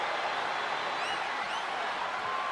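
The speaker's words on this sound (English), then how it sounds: "And do you hear this capacity crowd?" A capacity wrestling crowd in the WWE 2K25 video game roars continuously during a no holds barred match between Austin and Rikishi, a steady wash of cheering at moderate level with a few whistles cutting through.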